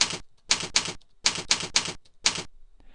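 Comments typed on a computer keyboard come through as short, crisp bursts of keystrokes in quick clusters separated by pauses, close and clear with no talking.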